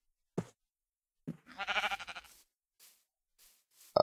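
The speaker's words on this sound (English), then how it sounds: "Shearing time, time to shear some sheep." Sheep in Minecraft, a blocky video game, bleating once in a short wavering call, framed by a few brief knocks and clicks in otherwise quiet surroundings.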